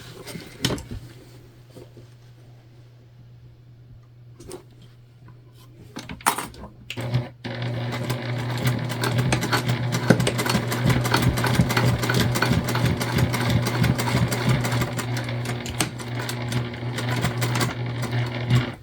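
A sewing machine runs a back stitch along the seam of a fabric bag. It starts with a few faint clicks and handling sounds, then settles into a loud, steady, rapid stitching rhythm from about midway to the end.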